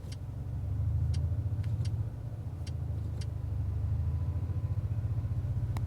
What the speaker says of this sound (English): So RPMs are going up when I select dynamic.